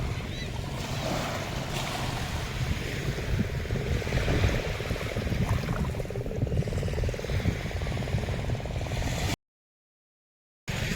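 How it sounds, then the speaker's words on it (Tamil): Night-time ocean surf at Muthunagar beach in Thoothukudi, a steady broad wash of waves with wind buffeting the microphone, continuous and moderately loud, with a brief dropout near the end. "தூத்துக்குடியில் முத்துநகர் பீச் வந்திருக்கோம்"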